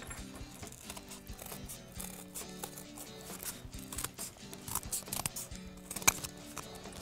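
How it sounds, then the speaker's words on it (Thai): Scissors cut a circle out of paper, giving faint, quiet snips in an irregular rhythm over several seconds. Nobody speaks. "ขั้นตอนต่อไปก็ใช้กรรไกรตัดวงกลมนี้นะคะ"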